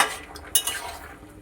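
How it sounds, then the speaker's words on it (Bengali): A spoon stirs a fish curry with drumsticks simmering in a pot, a brief, quiet scrape with a couple of faint metallic clinks against the pan over a soft bubbling hiss. "একটু নেড়ে দিই।"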